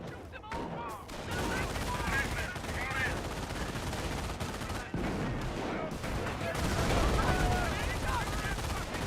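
Dense bursts of MG42 machine gun fire rattle through a Company of Heroes battle, mixed with other gunfire and scattered explosions in a loud, continuous wartime din, with voices in the background.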